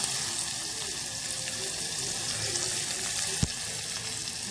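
Onion and curry leaves with a pinch of asafoetida sauté in a pan, giving a steady close sizzle and hiss throughout, with a single soft tap near the end.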